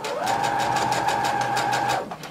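A sewing machine runs steadily for about two seconds, stitching a seam on a maxi skirt with a fast, even motor whir and rhythmic needle pulses before stopping.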